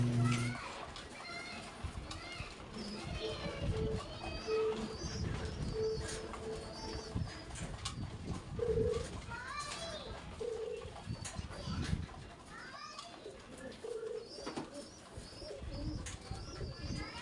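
Pigeons coo repeatedly inside a loft, soft throaty calls scattered over a busy background, with someone talking through much of it.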